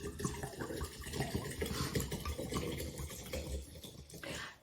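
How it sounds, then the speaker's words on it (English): Alcohol pours steadily into a tincture jar filled with hops, a continuous close-up gurgling splash of liquid that holds for several seconds before it stops. "And I'm going to fill this within 1 inch to the top."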